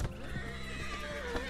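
A horse whinnies close by, a long wavering neigh over the steady clip-clop of hooves.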